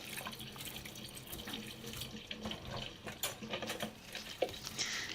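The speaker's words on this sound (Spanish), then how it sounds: "Y le incorporamos medio vaso de agua, esto es para que nos permita licuarlo" Half a glass of water is poured into a blender jar holding chunks of pineapple, a soft continuous splashing trickle with a few light knocks, fairly quiet, with no talking.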